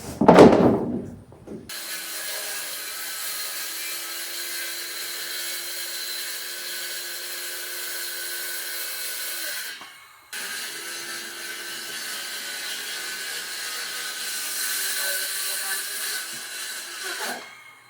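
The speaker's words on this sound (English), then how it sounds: "cutting out a big rectangular panel from the sheet of" A circular saw rips a large rectangular panel from a sheet of 3/8 plywood, a loud steady whining cut lasting several seconds, a brief pause, then a second long cut that ends as the blade winds down.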